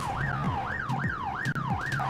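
Wailing police car siren from The Getaway video game, a steady rising and falling electronic wail repeating about every half second, loud and close, with faint engine hum beneath.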